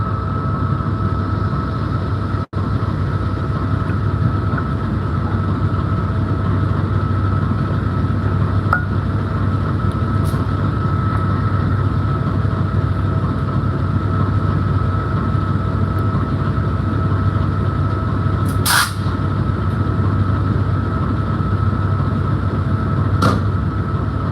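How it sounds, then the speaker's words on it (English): A steady low diesel rumble with a constant hum from Amtrak California Zephyr locomotives low idling at a station stop in Ottumwa, Iowa, punctuated by a few brief sharp clicks and hisses. "As you can hear, the locomotives are really low idling right now"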